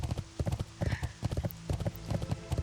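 A World of Warcraft horse mount trots along in the game, its hooves clip-clopping in a quick, steady rhythm of close, clear hoofbeats with a brief faint neigh in the middle.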